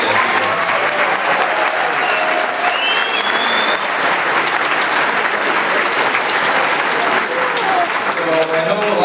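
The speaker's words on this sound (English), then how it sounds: "So let's give a big round of applause for those guys." Audience at a company masquerade party bursts into dense, loud, sustained applause for the marketing team, with a few whistles rising over the clapping throughout.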